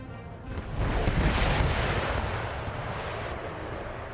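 Rocket artillery volley in the Empire: Total War battle, a sustained loud rushing roar of launches and blasts that swells after the first half-second and rumbles on steadily throughout.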